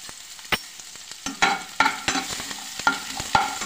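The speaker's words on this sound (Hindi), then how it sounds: "हींग डालेंगे हम, फिर हम इसमें प्याज डाल देंगे" Asafoetida and onions fry in desi ghee for a corn vegetable soup, with close, sharp sizzling and a series of clanking stirs and scrapes of a spoon against the pan.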